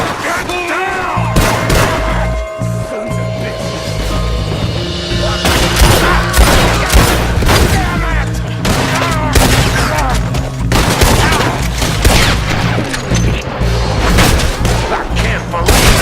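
Gunfire in the Western video game Red Dead Redemption 2: a dense, loud fusillade of repeated shots and booms over a musical score, firing continuously for the full stretch with rapid irregular bursts.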